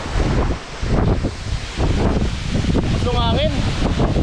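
Wind buffets the microphone outdoors during a year-end motorcycle ride through the mountains of Bakun, a loud steady rumbling roar with gusty swells throughout, while voices speak underneath.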